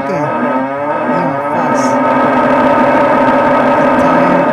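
A cow gives one long, loud, sustained moo close by, its low, drawn-out, slightly wavering tone filling the whole stretch on its own.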